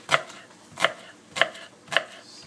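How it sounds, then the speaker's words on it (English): A knife chopping leek and green onions coarsely on a cutting board, four evenly spaced crisp cuts at a slow, steady rhythm, close and alone. "chopping some leek with some green onions"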